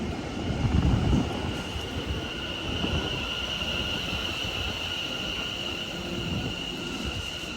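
A London Overground passenger train bound for Barking Riverside rumbles steadily, heard from inside with a continuous low roar of wheels on track and a faint high whine, no voices.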